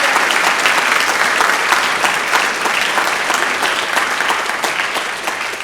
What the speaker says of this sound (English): Please give one more round of applause for all our new inductees